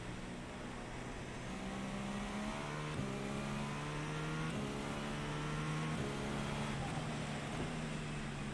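A GTP race car engine in a racing video game drones steadily, with the pitch stepping up in repeated gear shifts about every one and a half seconds, loud and continuous.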